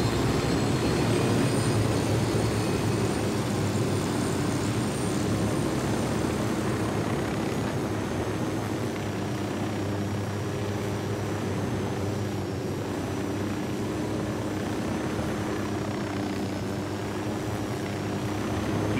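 An aircraft piloted in a stealth-mission video game gives off a steady, loud engine and rotor drone that holds constant throughout with little variation.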